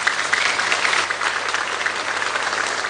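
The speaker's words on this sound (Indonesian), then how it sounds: "Beri tepuk tangan buat mereka berdua." Studio audience applause on a health talk show, a dense, steady wash of clapping that holds at an even level throughout without any voices over it.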